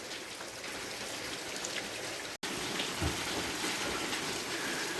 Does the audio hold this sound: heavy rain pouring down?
yes